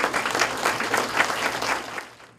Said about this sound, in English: Give these guys a round of applause, please.